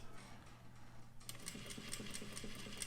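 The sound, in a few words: sewing machine stitching lines on paper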